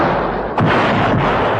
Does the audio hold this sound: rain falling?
no